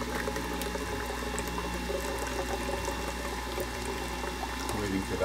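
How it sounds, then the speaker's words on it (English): Carrot juice drains from a juicer spout in a steady, continuous liquid pour and trickle that runs the whole time, sitting close and fairly loud over a low background hum. "Lots of juice coming out there."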